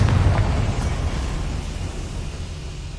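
Confringo fire blast spell in Hogwarts Legacy bursting with a deep, rumbling explosion right at the start, then settling into a low, sustained roar that fades slowly without talk.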